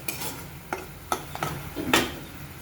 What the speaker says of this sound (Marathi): छान अशी ही डाळ आणि हे मसाले सगळे आपल्याला खरपूस असे तेलामध्ये परतून घ्यायचे आहेत